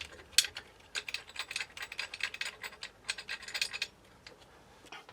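Bolts being fitted and tightened on a valve cover of a GMC motorhome engine, a faint run of small metallic ticks and ratcheting clicks in quick irregular bursts, close by, with no talking.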